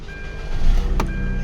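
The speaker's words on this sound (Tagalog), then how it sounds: "Engine start." A 2012 Hyundai Santa Fe automatic with a low-power fault and check engine light cranks and starts, giving a low rumbling surge with a brief sharp burst near the end, no talking.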